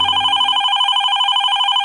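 A telephone rings steadily and loudly before a radio prank call to a pizzeria, an unbroken electronic trill that carries on alone without any talk.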